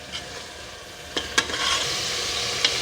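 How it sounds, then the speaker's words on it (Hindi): Beef browns in a pan for white qorma with a steady, loud sizzle and frying crackle, broken by a few sharp pops and stirring scrapes near the end. "इस तरीके से हम इसको भूनते जाएंगे।"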